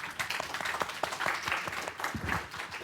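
Audience applause for town hall panelists at a university meeting, a steady dense patter of many hands clapping at moderate distance, continuing without talk throughout.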